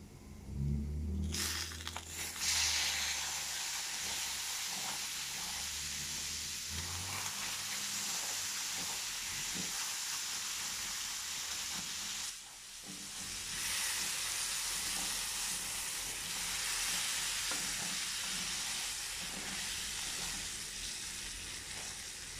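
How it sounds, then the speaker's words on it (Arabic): Chicken broth poured little by little into a hot pan for Lebanese-style moghrabieh, a loud rushing hiss and sizzle that surges, dips briefly, then surges again, steady and close with no voices. "وانا حبلش هلا احط من مرقة الدجاج شوي شوي، سقيلهم شوي شوي"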